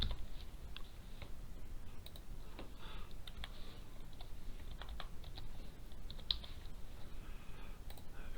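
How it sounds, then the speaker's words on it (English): Keys on a computer keyboard clack in quick irregular bursts of close, light taps as an entry is typed in, set over a steady low background noise with no speech. "We can come in here and we type in backhoe."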